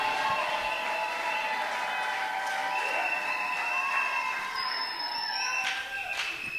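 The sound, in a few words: congregation applauding and acclaiming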